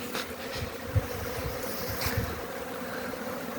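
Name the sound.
honeybees flying at apiary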